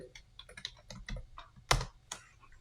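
Fingers type a short command on a computer keyboard, a close run of quick, light key clicks with one sharper clack near the end, heard alone and fairly quiet.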